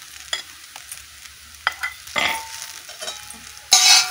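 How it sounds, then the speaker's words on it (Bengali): Scrambled egg is stirred and mixed in a hot pan among noodles, with quiet sizzling broken by several short scraping and clattering strokes of a utensil and a louder burst at the end, no speech. "ডিমটা দিয়ে ভালো করে আমি মিশিয়ে নেব।"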